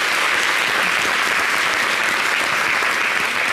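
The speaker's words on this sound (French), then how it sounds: "On s'acclame quand même." An audience at a French-language celebrity baby shower show claps in loud, dense, continuous applause with no talk over it.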